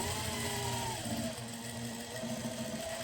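A sewing machine runs steadily while stitching the side seam of a blouse, a faint, even mechanical hum and whir with no breaks.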